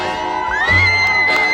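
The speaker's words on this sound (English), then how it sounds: "Lots of waving and cheering." A crowd cheering and whooping for a presidential motorcade, bright shouts and a rising whistle-like cry over a loud, continuous wash of voices.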